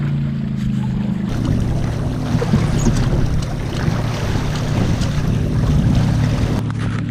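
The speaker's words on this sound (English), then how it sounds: "The wind is kind of picking up a little." Steady wind rushes and buffets the microphone aboard a Hobie Cat catamaran under sail, with water sloshing against the hulls; a continuous, loud roar that holds throughout with no voices.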